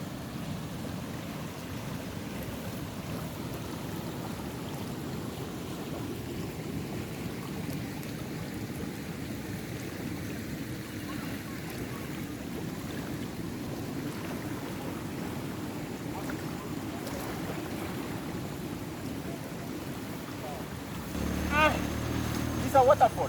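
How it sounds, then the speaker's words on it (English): Steady rushing water from a waterfall at a farm water pumping site, a continuous broadband roar throughout, with a brief louder clatter near the end. "It's a waterfall."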